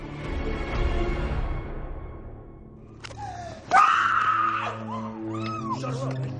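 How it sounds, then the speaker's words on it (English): A woman screams loudly and shrilly in a dramatized crime scene where she is held in a chokehold, the cry bursting out suddenly after a low rumbling stretch and trailing into wavering wails. "She screams"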